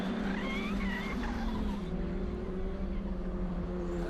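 A race car locks a wheel at a New Orleans circuit, and the tires squeal and skid in a wavering, bending whine over the steady roar of engines. The sound is fairly distant and quiet.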